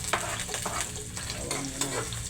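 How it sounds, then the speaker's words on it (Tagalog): Garlic sizzling in a little cooking oil in a pan, a continuous crackling fry with a few quick stirring scrapes, moderately quiet and close. "Tapos lagay na natin yung bawang."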